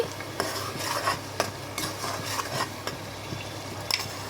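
A ground paste of onion, green chilli and ginger fries in a pan for a chicken curry, with repeated close scraping stirs of a metal spoon over a low steady sizzle.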